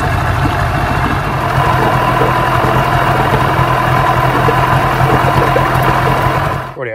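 A Yamaha 9.9/15hp outboard motor idles steadily at operating temperature, a loud, close, even low rumble with a constant beat that runs without pause until it drops away abruptly at the end.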